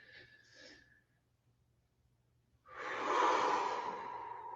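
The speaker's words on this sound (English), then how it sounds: "We breathe out from the nose." A slow, audible breath out through the nose during a yoga breathing exercise, coming after a brief softer inhale and quiet pause, close and soft, with no talking.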